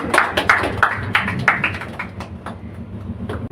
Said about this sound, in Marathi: त्यांच्यासाठी जोरदार एकदा टाळ्या होऊन जाऊ दे